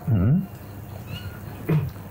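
A pet cat at home gives two close, clear meows, one longer wavering call and a shorter one a moment later, over a faint background hum.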